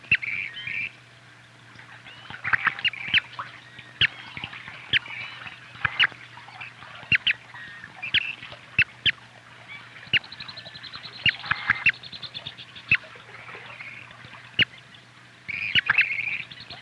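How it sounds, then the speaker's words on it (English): Grebe chicks and parents calling on the water: repeated sharp chirps and piping calls scattered over a steady low hum, with short bursts of trilling, moderately close. "The young birds are always hungry, and feeding them's a difficult task."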